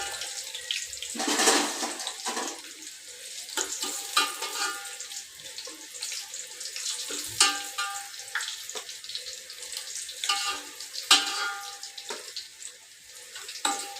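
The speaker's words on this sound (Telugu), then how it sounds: "కొంచెం సిమ్లో పెట్టి ఫ్రై చేయాలి" Boiled eggs frying in oil in a pan over low heat, a continuous soft sizzle with small crackles and spatters that rise and fall close by, no voices.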